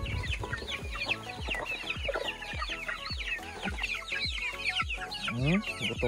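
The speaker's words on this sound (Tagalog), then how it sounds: "Gutom na yung mga alaga kong sisiyo." A crowd of chicks peeps busily and nonstop, mixed with the low, repeated clucking of grown chickens nearby.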